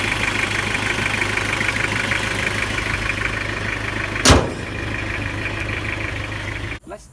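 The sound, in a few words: Toyota 1.8-liter engine idling, 20-year-old car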